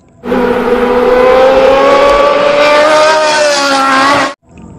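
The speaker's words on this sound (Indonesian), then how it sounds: "ternyata ini mobil balap Formula One, teman-teman" A loud Formula One race car engine effect for a toy car holds one sustained rising whine for about four seconds, starting and stopping abruptly, with no talk over it.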